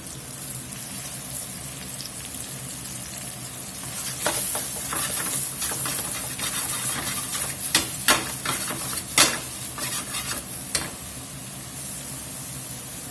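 Mushrooms sizzle and crackle in a hot skillet of oil and butter, a steady frying hiss with sharper pops and spatters joining midway.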